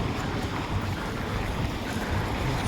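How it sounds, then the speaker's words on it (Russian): Light wind blows over a snowy city street in Yakutsk, a continuous rumbling gust buffeting the microphone with no other distinct sounds and no talking. "Немножечко метет. Как бы ветерок небольшой есть."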